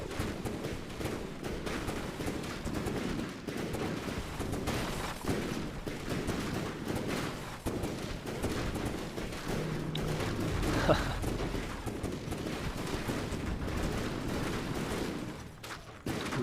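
Naval gunfire in a World of Warships-style battle between the Prince and the Sumatra: steady distant booming salvos under a continuous low rumble of sea and engines, moderately faint, with no speech.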